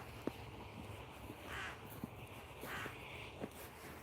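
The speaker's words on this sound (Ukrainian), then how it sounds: "Якісь вони тут пугливі ворони. Горобців не бачу. Одні ворони залишилися." Crows cawing in a winter apple orchard, several separate harsh caws spaced a few seconds apart at moderate distance, with faint background ambience and soft footstep-like sounds between calls.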